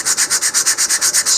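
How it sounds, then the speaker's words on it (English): Sanding sealer being sanded off the edges of a custom-built model rocket, a loud, steady rasping rub in about a dozen quick, even back-and-forth strokes with no talking. "sand off the excess"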